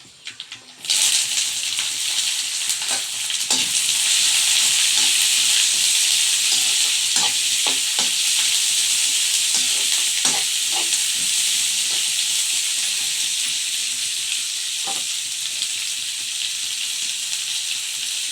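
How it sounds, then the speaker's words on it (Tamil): Ginger, curry leaves, onion and green chili fry in hot oil in a pan for hotel-style potato masala, giving a loud, steady, continuous sizzle with scattered clicks of stirring throughout and no talking. "இப்போ கருவேப்பிலை போட்டுக்கலாம் வெங்காயம் பச்சை மிளகாய்"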